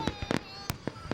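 Fireworks at the Jones Beach show boom in quick separate blasts, several sharp bangs within a second, sounding fairly close and loud.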